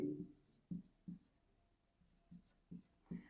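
Marker or chalk writing on a board during a math lesson, faint and quiet, with short scratchy strokes coming in separate bursts.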